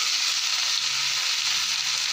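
Fenugreek leaves frying in oil in a wok give a steady, close sizzle that hisses evenly throughout, with no voices.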